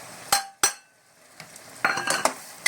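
A spoon scrapes and clinks against a pan while masala mixed with cashew almond paste is stirred, giving a few sharp knocks followed by softer scraping and clustered taps.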